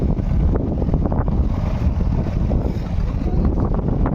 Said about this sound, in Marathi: हे बघा हे बघा हे बघा वारा बघा